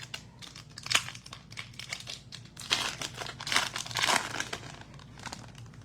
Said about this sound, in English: Just gonna rip some packs.